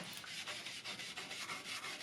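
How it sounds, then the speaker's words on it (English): Steel wire brush and Scotch-Brite pad scrubbing rust from the surfaces of a Deckel GK21 engraving machine with WD-40, quick close rhythmic strokes repeating steadily at a soft level with no talking. "using steel wire brush and some Scotch Brite with WD-40."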